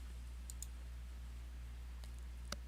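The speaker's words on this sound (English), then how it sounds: "So let me go ahead and click on that." A computer mouse clicks a few times, crisp and close, in short isolated taps over a steady low electrical hum.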